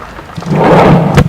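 At match point of a WTA 125 women's tennis match at the Mumbai Open, the crowd lets out a loud, swelling roar that builds quickly and holds as a dense rumble before dropping off.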